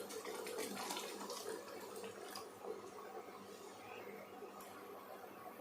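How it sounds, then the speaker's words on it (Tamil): Water poured into a simmering tamarind-based vegetarian fish-style curry (veg viral meen kulambu), a steady close splashing and trickling pour that runs the whole time without speech. "இப்போ இதில் இன்னும் கொஞ்சம் தண்ணி சேர்த்துக்கலாம்."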